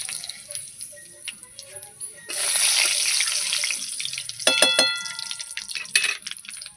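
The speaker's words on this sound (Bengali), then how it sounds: "বাটিটা ধুয়ে জল দিয়ে দেবো।" Tap water running into a bowl being rinsed in a kitchen, a close hissing splash that swells midway, with light clinks of the bowl and water sloshing toward the end.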